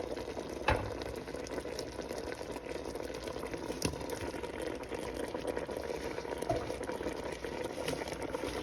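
Coconut milk for ginataang tilapia bubbles at a steady low boil in a pot, a soft continuous simmering hiss with an occasional faint clink.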